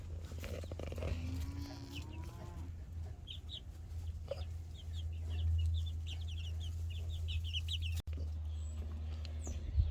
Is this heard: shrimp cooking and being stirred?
no